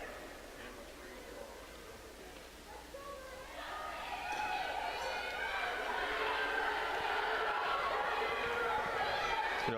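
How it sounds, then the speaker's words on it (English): A team cheering and applauding from the stands at an indoor women's track and field championship. The dense crowd noise starts moderate and swells louder after about four seconds, then holds steady. "The rest of the team is sitting there applauding and providing encouragements."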